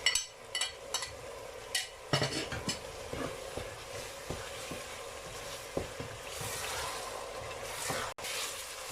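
Garlic and ginger paste sizzles and fries in a hot pan with oil for beef kofta, a steady close crackle punctuated by several sharp stirring scrapes and clinks of a spoon against the pan.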